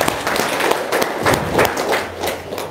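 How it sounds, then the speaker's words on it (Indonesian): An audience at a seminar on a grocery trading business breaks into applause, a dense, steady patter of many hands clapping with irregular louder bursts, filling the room for a few seconds. "Sip, tepuk tangan dong."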